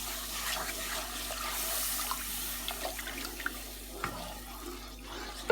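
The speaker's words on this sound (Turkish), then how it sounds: "İçerisine sütümüzü ilave edelim." Milk is poured into a cooked butter-and-flour roux while making béchamel sauce, heard as a soft, steady liquid pour with faint clinks and small splashes near the end.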